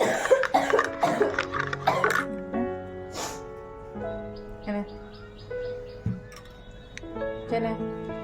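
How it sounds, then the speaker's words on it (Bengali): A few harsh coughs near the start among bright, tonal background sounds, fairly close, then quieter ambient noise with scattered chirps. "গরম গরম কাশি হচ্ছে"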